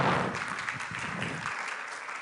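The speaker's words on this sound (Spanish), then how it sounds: "Un aplauso al Señor fuerte," A Pentecostal church congregation claps together in praise, a sustained, fairly loud wash of applause that slowly thins toward the end, with no voices.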